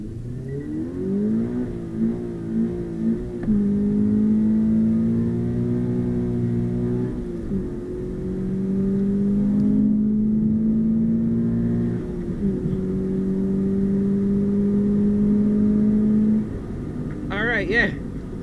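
A 2020 Subaru BRZ engine revs up and holds in several sustained pulls during clutch-kick drifting in a hurricane, rising and settling, loud and close, with brief gaps between bursts.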